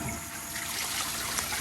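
Water runs steadily through an oil containment wall box during a flow test in the rain, a continuous close trickling and rushing wash without a break and with no speech.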